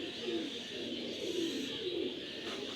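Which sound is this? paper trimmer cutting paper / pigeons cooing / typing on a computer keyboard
pigeons cooing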